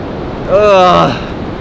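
Ocean surf rolls onto a beach as the tide comes in, a steady broad wash with wind buffeting, while a short voice sound briefly rises over it.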